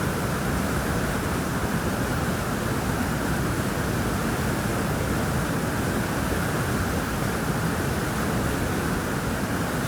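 River rapids at Blossom Bar rush loudly and continuously, heard from a wooden boat as a dense, steady roar of whitewater with no pauses.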